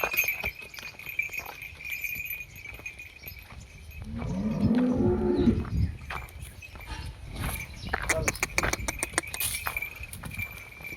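A low, drawn-out moo from a nearby Holstein Friesian heifer in the middle of the recording, with clinks and light shuffling noises around it.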